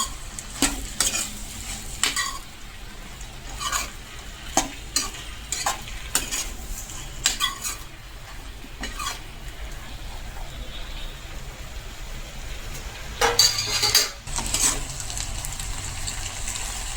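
A tomato and paneer masala is stirred in a pan, giving repeated scraping and clinking strokes over a steady sizzle of frying, loud and close, with no talking.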